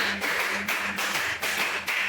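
A group of teachers claps together in a counted rhythm, giving a series of evenly spaced, fairly close bursts of hand claps at a brisk, regular pace with no talking over them.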